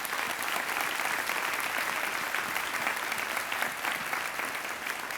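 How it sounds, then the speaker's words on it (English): Steady applause fills a community luncheon hall, dense and continuous throughout with no pause or voice over it. "Let's give them all a round of applause here."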